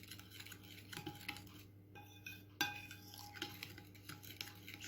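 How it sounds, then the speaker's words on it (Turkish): Cocoa-dusted cake batter being stirred in a bowl, with soft repeated scraping and light clinks of a utensil against the dish, steady and close, no voices. "Kakaomuzu ekliyoruz. Tekrar karıştırmaya devam ediyoruz."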